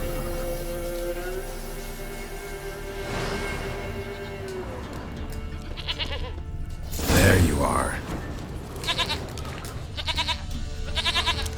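A goat in The Witcher 3 bleats a few times amid game ambience, one loud close cry standing out in the middle, with a voice speaking briefly around it.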